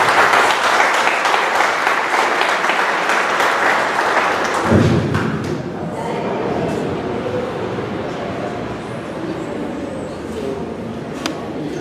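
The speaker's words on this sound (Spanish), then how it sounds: "fuerte aplauso, por favor." An audience at a cooperative community meeting in Chosica applauds to welcome an engineer: about five seconds of dense, sustained clapping that then drops away into quieter room noise and low murmuring.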